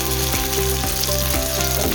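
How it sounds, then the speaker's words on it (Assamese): Finely chopped onions and whole garlic cloves fry in a little hot oil, giving a steady, close, continuous sizzle with faint crackle throughout and no talking. "এতিয়া তেলখিনি গৰম হৈ গ'ল ইয়াত দিম মই এতিয়া পিঁয়াজ মিহিকৈ কটা পিঁয়াজখিনি"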